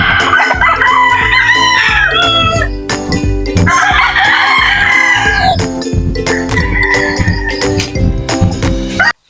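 Native chickens on a backyard farm fill the air with loud, overlapping rooster crows and steady clucking, close and continuous with no talking.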